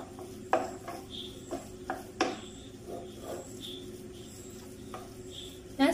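A spoon scrapes and stirs a crushed chicken mixture in a pan, with soft rhythmic scraping strokes and occasional knocks against the pan, close and moderately quiet.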